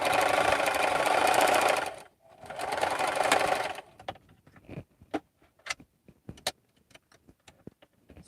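A loud manual sewing machine runs in two steady bursts of stitching, then stops and gives way to scattered clicks and handling knocks.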